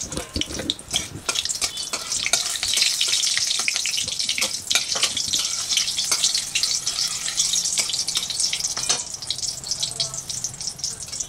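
Cumin and black cumin seeds sizzle and crackle in about three spoons of hot oil as a bean and potato curry gets started, a steady dense frying hiss with scattered sharp pops throughout.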